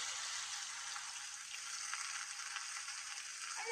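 Finely chopped, peeled bottle gourd tossed into hot oil tempered with whole bay leaves and cumin, giving a steady, close, continuous sizzle with no voices.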